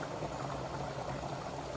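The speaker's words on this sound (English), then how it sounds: "I put in a pot of rice. It's boiling now" A pot of rice boils on the stove, giving a continuous soft bubbling hiss that stays even and low-level throughout, with no talking.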